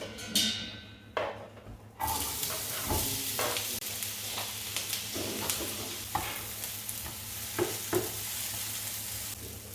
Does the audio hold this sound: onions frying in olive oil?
yes